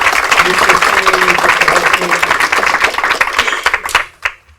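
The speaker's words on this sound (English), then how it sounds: "So let's give them a round of applause." Audience applause at a community town meeting about street renovations, a dense sustained clapping from a crowd that carries for about four seconds and then thins out quickly into a few scattered claps.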